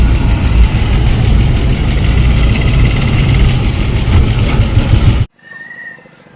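A motorcycle engine idles loudly and steadily at close range near Haridwar, a continuous rumbling drone that cuts off abruptly, leaving quiet background sound.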